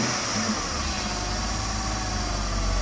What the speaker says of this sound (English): this vehicle is now back up and running perfectly